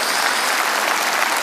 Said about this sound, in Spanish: Vamos a dar un aplauso al amor de Dios.